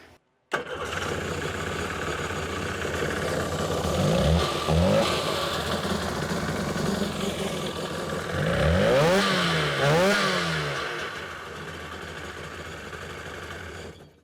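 A 2003 Sea-Doo GTI RFI jet ski engine, with one spark plug cable disconnected and grounded, cranks and churns loudly and steadily, its pitch swelling in two surges mid-clip before winding down.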